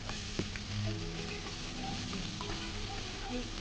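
Vegetables tossed with chili powder sauté in a pan for vegetable biryani, giving a steady, close frying sizzle with faint stirring scrapes, low and continuous throughout.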